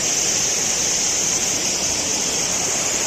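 The fast-flowing Beas river rushes in a dense, continuous roar of turbulent water, loud and close, with no other sounds over it.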